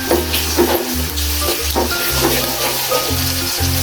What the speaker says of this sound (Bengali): বাটা পেঁয়াজ বাটা যেটা ওটা দিয়ে দিলাম